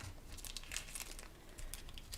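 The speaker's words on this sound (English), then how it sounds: "I'm going to bring in an adhesive sheet." An adhesive sheet handled for die-cut craft letters gives off soft, close crinkling of plastic in scattered bursts, with a sharper crackle at the end.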